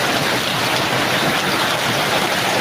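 Heavy rain from a typhoon pours down steadily, a dense, loud wash of drops with no letup and no voices.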